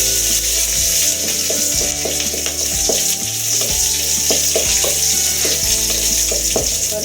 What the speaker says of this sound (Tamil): ஒரு நிமிஷம் வதக்கணும்.